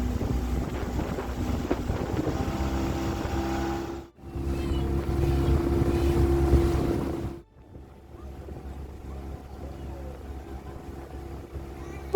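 A steady tour boat motor drones in Matka Canyon, North Macedonia, with wind buffeting the microphone, the rumble cutting out twice briefly before continuing more quietly.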